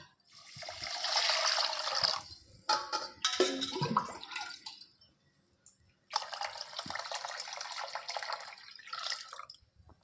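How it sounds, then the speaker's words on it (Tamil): Water pours into a pressure cooker in two bursts with a short gap, a hissing, splashing stream filling it nearby, with a few clinks between. "இப்போ ஒரு கப்புக்கு ஆறு கப்பு தண்ணி ஊற்றணும்"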